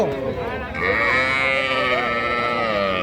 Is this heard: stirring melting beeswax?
no